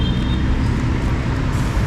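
Cars pass along a rain-soaked road, a constant loud wash of tyre hiss and engine rumble with no clear breaks.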